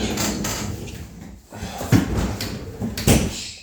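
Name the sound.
door being shut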